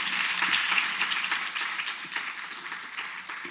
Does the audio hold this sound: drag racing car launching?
no